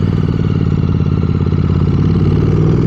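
A motorcycle engine labours loudly and steadily as the bike climbs a steep mountain road after leaving a river bed on the Sach Pass route, with a continuous throbbing clatter close to the rider.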